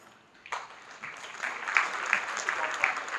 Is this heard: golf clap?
yes